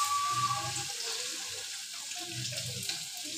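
Dry red chillies, bay leaf and garlic tempering in hot oil give a steady close sizzle, with low clattering bursts of stirring or dropping pieces into the pan over it.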